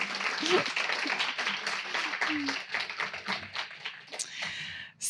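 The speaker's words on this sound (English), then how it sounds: "maybe we could do a round of applause for all of the mentors" An audience applauds the mentors at a translated literature reading event, a scattered round of clapping mixed with voices talking over it, fading near the end.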